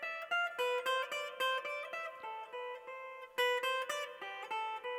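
Guitar plays a stepwise scale sequence of single picked notes in a steady, brisk pulse, close and clean, moving down and back up, with nobody speaking.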